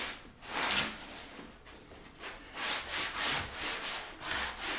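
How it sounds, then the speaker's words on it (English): Repeated rubbing strokes as a damp cloth wipes dust off a bathroom floor during a vinyl plank tile renovation, close and rhythmic with short pauses between sweeps, and no voices. "we can just wipe it over with our damp cloth, get rid of the dust"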